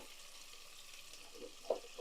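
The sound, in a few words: onions frying in a pan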